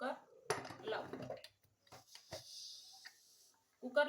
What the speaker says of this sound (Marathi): आता कुकर लावू.